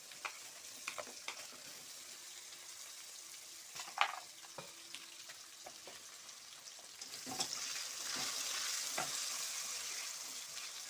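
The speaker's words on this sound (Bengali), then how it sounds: "আলুগুলো একটু ভাজা ভাজা হবে।" Potatoes fry in a pan, a steady broadband sizzle with occasional sharper crackles and utensil taps. The sizzle swells louder toward the end, with no voices.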